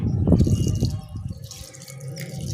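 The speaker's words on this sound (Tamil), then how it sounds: "கொஞ்சமாக தண்ணி ஊற்றிக்கலாம்." Water trickles and drips into a pot of soil being readied for seed planting on a rooftop garden, a soft, close, uneven splashing that is louder at first and then thins out.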